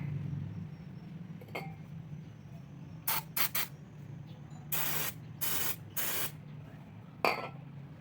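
Chemical cleaner sprayed onto the throttle body of a Honda Click 125 scooter, a series of short hissing bursts, several close together then a few longer sprays, over a low background hum with no talking.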